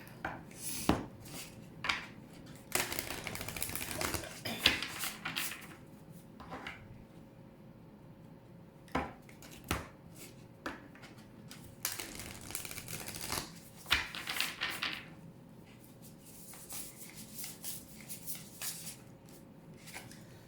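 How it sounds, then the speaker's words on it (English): Oracle cards are shuffled by hand in soft, close riffling bursts separated by pauses, with light tapping and handling sounds between them and no talking. "Let's get some oracle cards here."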